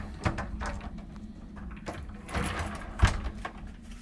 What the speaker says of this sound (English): When you open up the closet doors, you got a light that comes on.